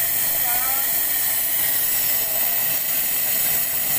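A steady, loud hiss of air escaping from a Kawasaki Barako 2 motorcycle's engine intake after backfiring, close up and unbroken, over a faint low rumble.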